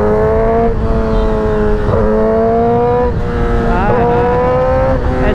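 A Yamaha R6 sport motorcycle fitted with an SC Project exhaust revs hard and loudly up close, its engine note climbing and dipping in repeated sweeps without pause.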